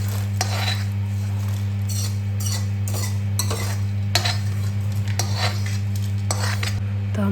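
Roasted food scraped and moved from a kadhai wok onto a plate, with repeated metal spatula scrapes and clinks over a steady low background hum, fairly close.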